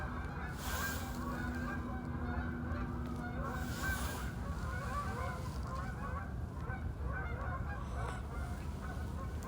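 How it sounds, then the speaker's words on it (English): Outdoors, many geese honk and cackle in a continuous noisy chorus at moderate distance, with a steady hum of background noise. "I'm hearing all these damn birds"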